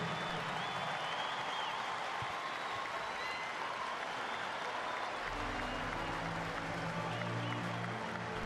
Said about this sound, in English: how about another Texas round of applause